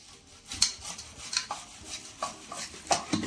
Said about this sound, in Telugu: పండు ఇలా తురుముతాం కదా